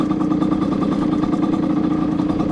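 A Beta 50 moped engine fitted with a loud aftermarket exhaust runs steadily and close by, a buzzy, even drone that holds without any break.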